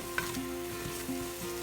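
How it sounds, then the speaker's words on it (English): Onions frying in a pan for chicken lemon soup, a steady close sizzle with soft stirring clicks and scrapes throughout, no talking. "Onions are cooking down there."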